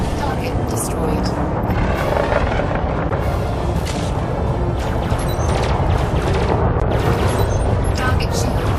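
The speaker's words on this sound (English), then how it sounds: "those things blow up with a great explosion" A ship exploding during combat in the space game Elite Dangerous, a loud sustained roaring blast with dense crackling debris noise that stays intense throughout.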